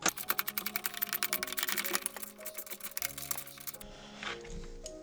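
A ratchet with an 8mm socket works an engine mount bolt loose, making a rapid run of close, crisp clicks that slows into scattered metallic ticks and then stops.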